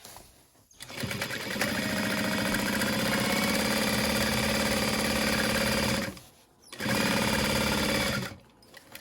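A sewing machine bastes backpack fabric layers in two long, steady runs of fast mechanical stitching, with a brief pause between them and a short stop at the start.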